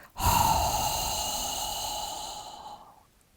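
A long, steady hissing exhale made as a Qi Gong healing sound, breathy and close, sustained for nearly three seconds before fading out.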